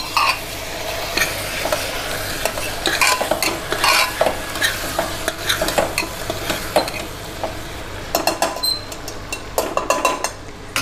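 Spiced mixed vegetables with garam masala, coriander powder and chilli are stirred in a pan, a spoon scraping and clinking in a steady rhythm over a soft sizzle, close and with no talk.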